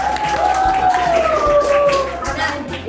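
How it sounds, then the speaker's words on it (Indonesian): A classroom of students applauds their teacher, a steady burst of scattered clapping with a faint tone and some background voices running through the whole stretch. "tepuk tangan untuk ibu"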